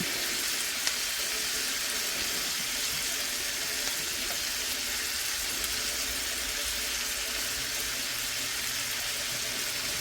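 Pan sauce simmering on a stovetop after cooking sous vide herbed chicken leg quarters, a low continuous bubbling hiss with no talking over it.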